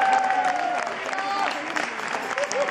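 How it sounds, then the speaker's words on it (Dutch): Audience applause for a performer at a Dutch stage show, moderate clapping running throughout with voices and some tonal sound layered on top. "Applaus voor Tino Kuipers!"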